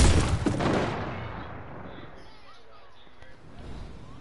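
Gunfire from a PS4 video game, a loud burst of shots up front that fades into a quieter tail, with a voice talking over it.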